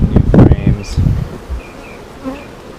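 Honey bees buzz around an open hive while frames are being inspected, a soft insect hum heard between louder handling bumps and low sounds early on, fading to a quieter buzz with a few faint tones.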